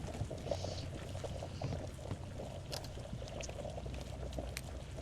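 Water boils in the zombie survival video game Vein, a continuous soft bubbling and pouring wash under faint game ambience, with no talking.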